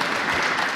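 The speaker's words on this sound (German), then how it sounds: "Ja, schon weniger Applaus." Brief, modest applause from an audience at a satire talk, a steady patter of clapping lasting under a second.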